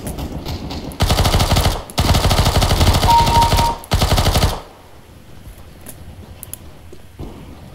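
Counter-Strike: Global Offensive automatic gunfire, loud close bursts in three sustained sprays separated by short pauses, then quiet with faint background noise.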